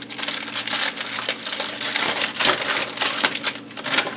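Sheet of tin foil crinkling, crumpling and tearing up close in a home kitchen, a dense continuous rustle with sharper crackling bursts throughout and no voices.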